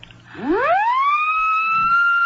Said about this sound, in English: real police siren, huh?